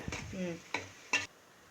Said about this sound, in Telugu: పచ్చిమిర్చి దోరగా వేగేంత వరకు గరిటతో తిప్పుతూ ఉండాలి